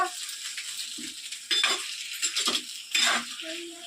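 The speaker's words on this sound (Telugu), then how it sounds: "రొయ్యలు అయితే వేసేస్తా ఉన్నానండి ఆయిల్లో. ఆయిల్లోనే ఫ్రై చేసుకోవాలండి రొయ్యలు." Shrimp fry in hot oil in a village kitchen with a soft, broad sizzle, broken by several close clinks and scrapes of a metal utensil against the pan.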